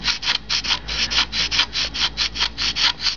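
Balsa glider wing being hand sanded along its undercamber, a soft rhythmic scratchy rubbing in quick back-and-forth strokes, about six per second, close and fairly quiet with no voices.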